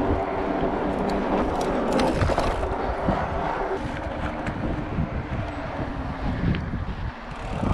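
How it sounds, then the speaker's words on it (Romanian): Headwind buffeting the microphone while riding an electric bicycle, a constant loud rushing roar with low rumbling gusts throughout, with no voices over it. "Urât e când bate vântul din față."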